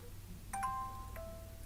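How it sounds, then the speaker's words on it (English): Knock-knock notification tone from a Samsung Galaxy Watch: two quick, soft tonal pings a half-second apart, each ringing briefly, faint and alone over a low background hum. "Knock, knock."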